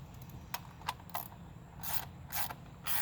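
A ratchet tightens a PCV valve on a 2012 Chevy Cruze LTD, giving several short, faint bursts of clicking spaced across a few seconds against a quiet background, with no talking.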